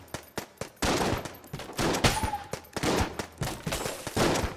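Video game shotgun fire in Enter the Gungeon, a rapid series of loud blasts, some in quick clusters, layered with dense chaotic combat effects and no talking.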